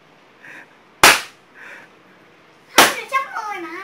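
Balloons poked until they burst at a children's balloon-popping contest, two sharp loud pops about two seconds apart, with faint child-like vocal sounds between them and rubbery squeaks after the second pop.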